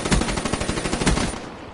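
Shotgun gunfire in a video game, heard as a loud, rapid burst of several close blasts in quick succession that fades out at the end.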